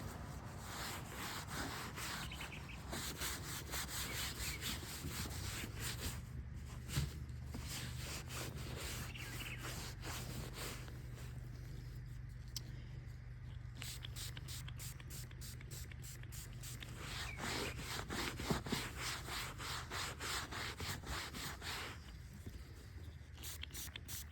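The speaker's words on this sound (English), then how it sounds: "I'm going to scrub this area well." A perforated leather seat is scrubbed clean with a brush in rapid rhythmic back-and-forth strokes, close and fairly quiet, continuing with short pauses and no voices.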